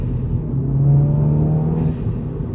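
A Stage 3 VW Polo GTI accelerating hard on a pull, engine tone rising steadily as a close, loud droning whine, alone with no talk.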